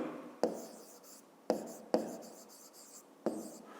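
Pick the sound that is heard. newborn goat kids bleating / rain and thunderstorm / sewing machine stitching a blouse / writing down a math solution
writing down a math solution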